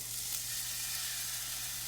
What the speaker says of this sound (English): drop it in. So it starts frying up right away.